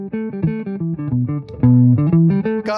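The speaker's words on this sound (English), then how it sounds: "It's made by Crazy Tube Circuits in Athens, Greece. It's a very good clean boost" An electric guitar played through a Crazy Tube Circuits clean boost pedal, picking a quick melodic line of clear, sustained notes at a strong, steady level.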